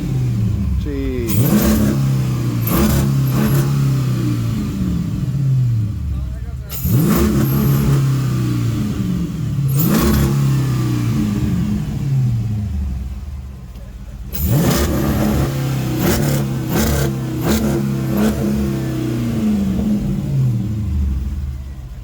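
A Dodge Magnum with a solo exhaust revs repeatedly in loud, close bursts, each surge rising and falling in pitch over a steady rumbling idle, with people talking now and then between the revs.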